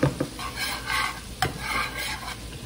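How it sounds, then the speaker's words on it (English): Garlic frying in a pan while a utensil stirs it, giving a soft, steady sizzle with light scraping strokes and a couple of clicks, close and alone. "Just keep on stirring."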